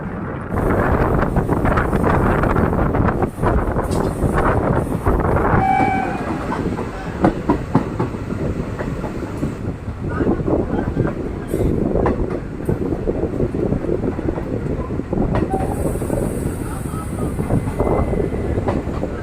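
A train on the Sengottai to Madurai line via Tenkasi rumbles along the rails with loud, continuous clatter and rhythmic clicks, wind buffeting the microphone throughout, no talking.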